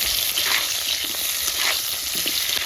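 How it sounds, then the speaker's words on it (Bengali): Potatoes and garlic frying in hot oil, a steady, close, fairly loud hiss and crackle that runs unbroken with faint bubbling beneath, no voices. "আমি আলুর সাথে রসুনগুলো সবসময় ভেজে নিই"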